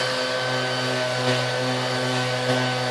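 A Ridgid Gen5x 18V cordless 5-inch random orbital sander runs steadily up close, a constant motor hum with a few faint rubbing bumps.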